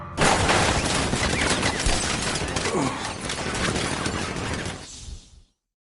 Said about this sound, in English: Activate sentry guns on my mark